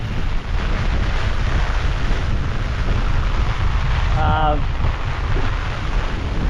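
Cyclone wind roars loudly and steadily against the microphone with a wash of rain and surf, as a brief whistling tone rises partway through.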